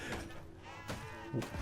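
A sheep bleats several times in the video game Mortal Shell 2, short nasal cries over a low game ambience, at moderate volume.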